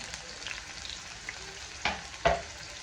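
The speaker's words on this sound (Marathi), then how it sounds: "कांदा चांगला लाल होईपर्यंत फ्राय करून घ्यायचा" Steady sizzling of onion frying in hot oil after cumin, with a couple of sharp clinks of a utensil against the pan near the end.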